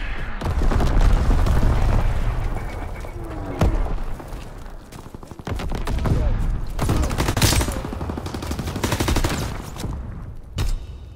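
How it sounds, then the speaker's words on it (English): Mortar rounds exploding in the World War II video game Call of Duty: WWII: heavy booming blasts and rumbling gunfire rolling continuously, loud and close, with sharper cracks and a shorter burst near the end, under a faint voice. "Sending mortar rounds."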